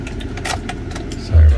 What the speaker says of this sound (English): we gotta turn the key on